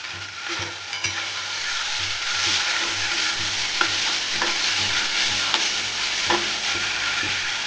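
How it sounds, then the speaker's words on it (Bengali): Ginger, garlic and green chili paste fries in hot oil with a loud, steady sizzle, while a spoon stirs it and scrapes the pan in a few light, irregular knocks. "প্রথমে দিলাম দু চামচ আদা রসুন আর কাঁচা লঙ্কা বাটা"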